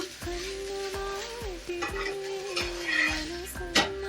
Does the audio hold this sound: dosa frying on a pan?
yes